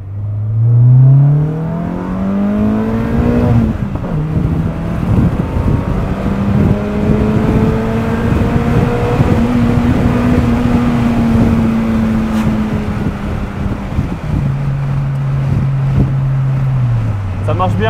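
A Renault Clio 2 RS accelerating hard from a rolling start, its engine note climbing through the gears with brief dips at each shift, heard from inside the cabin with wind noise.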